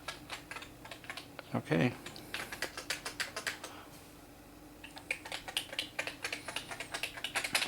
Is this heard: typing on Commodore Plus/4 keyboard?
yes